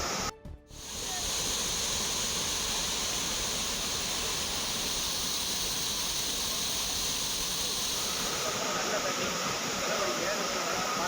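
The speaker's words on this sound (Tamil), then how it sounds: "குற்றாலம் மெயின் அருவி மற்றும் பழைய அருவியில் ஏராளமான சுற்றுலா பயணிகள் தங்கள் குடும்பத்தினருடன் உற்சாகமாக குளித்து வருகின்றனர்" The main waterfall at Courtallam, where crowds of tourists bathe, pours with a loud, continuous roar of rushing water, steady and dense throughout, after a brief dip at the start.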